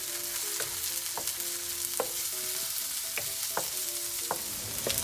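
Carrots stir-frying in a hot pan for pineapple fried rice, a continuous crackling sizzle broken by sharp periodic clinks and scrapes of a utensil against the pan, with no voices.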